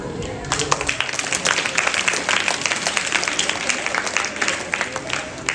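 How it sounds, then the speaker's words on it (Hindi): School students in a Rajyoga session applaud themselves, a dense, sustained burst of many hands clapping close by for several seconds. "अपने लिए ताली बजाओ"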